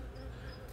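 Bees buzz around an apiary hive in a soft, continuous hum, faint and brief.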